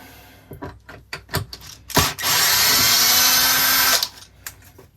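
A power drill pulls rusty bolts off a car body panel, first in several short bursts and then one sustained loud whir lasting about two seconds before stopping, close up with no talk.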